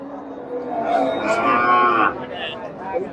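Friesian dairy cow giving about 15 litres of milk, mooing at a cattle market: one long, loud, drawn-out moo over steady crowd murmur, then the market noise carries on.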